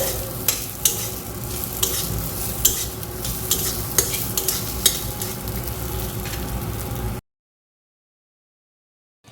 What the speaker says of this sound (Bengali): এই নারকেলের কুচিগুলোকে দিয়ে দেবো, ভেজে নেবো এগুলোকে।